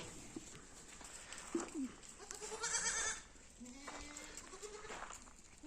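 Goats and young kids bleat on a goat farm. A few wavering cries come from a middle distance over a constant, noisy background.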